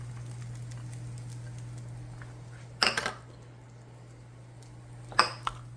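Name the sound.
onions being thrown into a pan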